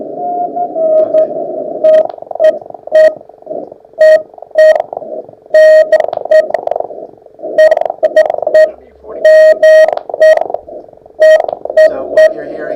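Morse code sidetone from a ham radio key, sent in short and long beeps right over another station's transmission, which carries on faintly underneath as a steady murmur.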